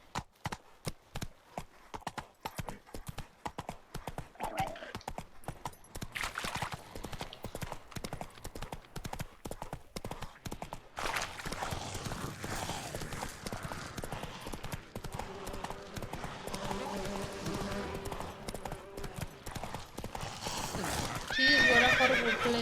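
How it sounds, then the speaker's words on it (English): Horse hooves clip-clopping at a gallop in The Witcher 3, a rapid rhythmic drumming with snorts and a whinny, close and steady under game music and ambience, with someone talking at times. "Oh, la Roach, my magical horse. Run, Roach."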